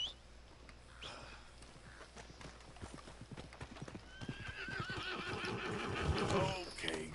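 Horse hooves clip-clop in Red Dead Redemption 2 as a horse trots up, growing louder and closer, then a clear whinny near the end, with game ambience underneath.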